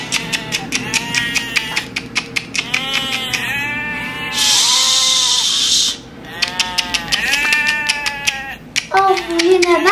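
Several sheep bleat loudly and close by in repeated wavering calls, overlapping each other, with a brief burst of hiss-like noise in the middle and a voice near the end.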